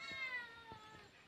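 A cat on a farm in Murud village gives a faint, drawn-out meow with a clear tonal quality, heard softly against a quiet background.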